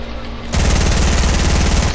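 Rapid automatic gunfire in a multiplayer shooter video game, a dense steady burst of shots that starts abruptly after a short quiet moment and carries on loud and close to the end.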